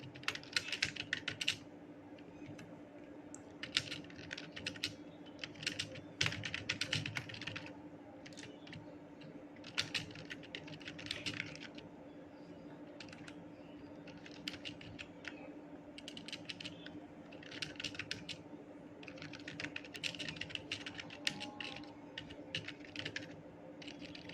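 Text is typed on a computer keyboard in quick irregular bursts of key clicks separated by short pauses, close and clear over a faint steady hum, with no speech.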